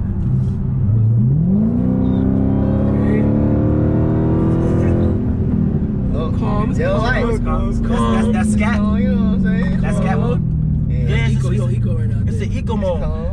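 A Dodge Hellcat's engine drones steadily while driving in eco mode, rising in pitch around the second second and then holding, under excited talk from people in the car.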